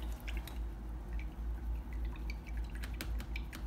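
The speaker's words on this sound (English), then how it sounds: "wash your brush out" An acrylic paintbrush is swished in a cup of rinse water, giving soft, close splashes and drips in a quick irregular rhythm.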